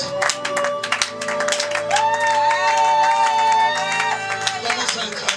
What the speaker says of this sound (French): Là où tu es, commence à acclamer Jésus.